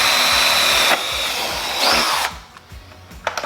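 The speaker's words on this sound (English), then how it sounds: "You also want to drill this out" A power drill bores through a carbon fiber front lip splitter on a BMW F30 M Sport, its high motor whine loud and steady, then shifting pitch as it bites and spins down, leaving quieter clicks and handling noise.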